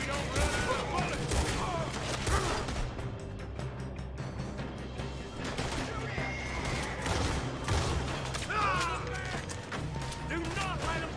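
Red Dead Redemption 2 gunfight, with a steady wash of gunfire mixed with horses whinnying and hooves clattering, loud and continuous throughout and no clear pauses.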